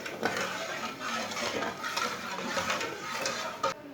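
A spoon stirs a sweet biscuit mixture with sugar in a pan on the stove, giving a continuous busy clatter of metal scraping and clinking against the pan, close and fairly loud throughout.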